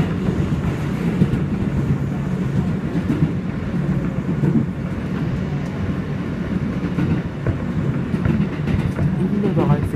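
An R160B N subway train runs through Bay Parkway station, giving a steady, loud rumble with faint clickety-clack over the full stretch.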